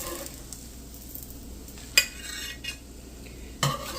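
Sugar-topped French toast cooking in a pan, a soft steady sizzle broken by a couple of brief sharp clinks of a utensil against the pan, close and without speech.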